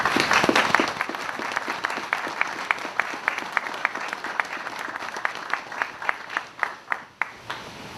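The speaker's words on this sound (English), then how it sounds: "Give them a round of applause." A small crowd claps at an outdoor 2019 Veterans Day ceremony in Tinley Park, with distinct, evenly spaced claps that start full and thin out toward the end.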